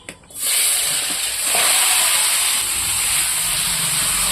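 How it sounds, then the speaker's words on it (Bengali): Chicken pieces with tomato and spices sear in a wok over a fire, giving a loud, steady hiss and sizzle that starts abruptly and holds without a break. "কড়াইতে মাংসটা দিয়ে দিয়েছি আর দেখো কী সুন্দর কষানো হচ্ছে"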